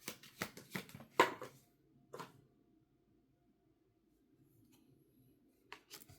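Playing cards are shuffled in a few quick, close riffling bursts, then a long quiet pause before a brief final rustle, all faint in a hushed room.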